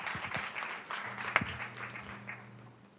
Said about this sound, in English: can we give these folks a round of applause as well?